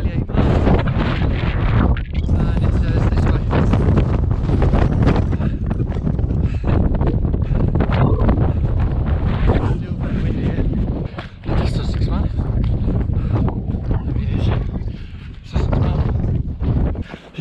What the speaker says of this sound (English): a bit windy around here